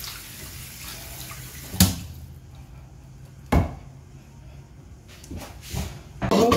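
Vegetables are washed under a running kitchen tap in a sink: a soft, steady trickle of water broken by a few sharp knocks and clunks against the basin.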